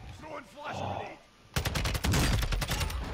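Rapid gunfire from a Warzone 2.0 match bursts in loud and dense after a quieter opening, with several sharp shots tumbling over one another while a voice talks over the start.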